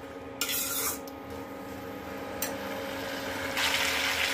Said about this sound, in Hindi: तो हमारा मटर टमाटर भूनते हुए 2-3 मिनट हो गए हैं